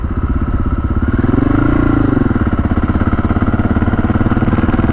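A Honda XR650L four-stroke single-cylinder motorcycle engine running loud and close, a steady pulsing thump at idle that rises briefly in revs and settles again, with no voices.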